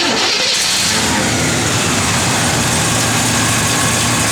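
A 1972 Chevrolet Monte Carlo's engine runs loud and close, a steady rumbling idle that rises into revs after a brief start, with no talking.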